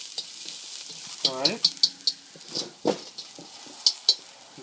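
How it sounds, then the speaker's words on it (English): Garlic sizzling in a wok while being stirred: a steady frying hiss with repeated scraping clinks of a utensil against the metal, close up, as someone speaks briefly. "Just cook a little bit, sizzle a little bit."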